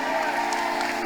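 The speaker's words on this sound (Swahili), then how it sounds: "Umeona ya makofi yote waliopiga watu?" A church congregation clapping together in praise of God, a short burst of dense, loud applause with scattered cheers.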